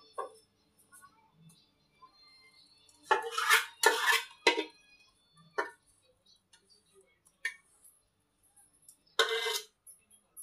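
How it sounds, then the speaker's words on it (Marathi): Ladoo mixture scraped and poured into a wide metal parat, giving a loud burst of clattering metal scrapes and clanks in the middle and another near the end, with quiet taps and faint ticks between. "तर हे मिश्रण लगेच आपल्याला एका परातीमध्ये ओतून घ्यायचं आहे"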